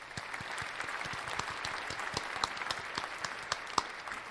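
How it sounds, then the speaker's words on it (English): Steady applause from a crowd, dense clapping with a few sharper claps standing out, sustained at an even level throughout. "that deserves a round of applause"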